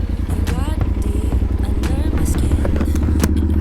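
A motorcycle engine chugs with a pulsing low rumble as it sets off, close and loud, with scattered clatter and scrapes as it gets moving.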